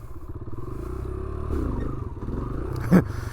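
A motorcycle is ridden through a wheelie on a road in Long Island, New York, its engine rumbling and shifting pitch as throttle changes, with a brief clattering knock near the end.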